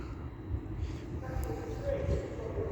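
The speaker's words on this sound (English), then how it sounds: "Now coming in is another LNER Azuma service from London King's Cross to Edinburgh." An LNER Azuma service from London King's Cross to Edinburgh pulls into York station on the East Coast Main Line, a steady low rumble of rolling wheels and traction hum that holds at an even level throughout.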